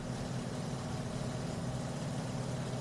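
Steady droning piston engine of a Beechcraft Model 18 twin-engine aircraft in Microsoft Flight Simulator, a continuous low hum with a strong low tone, heard alone at a constant level throughout.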